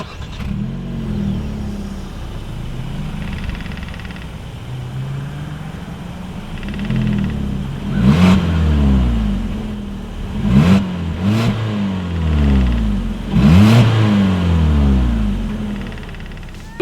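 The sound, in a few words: 2018 Hyundai Kona engine and exhaust revving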